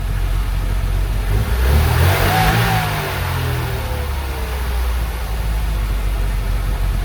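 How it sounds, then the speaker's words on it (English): An MG Maestro Turbo engine idles, then revs up sharply and settles back to a lumpy idle, loud and close with no voices. "hopefully we should have a up and running Maestro Turbo again"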